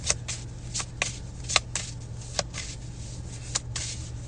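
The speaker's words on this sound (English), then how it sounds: "All right, spirit, let me get one card at a time." Tarot cards being shuffled and drawn, a run of quick riffling flicks and soft card slaps, close and steady over a low background hum, with no talk.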